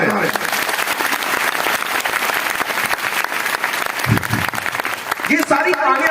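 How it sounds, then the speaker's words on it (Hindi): Crowd applause at a youth meet, loud sustained clapping from many hands filling the whole stretch, with a couple of low thumps near the end and a voice starting to speak as it fades. "उनके लिए एक बार जोरदार ताली मारें।"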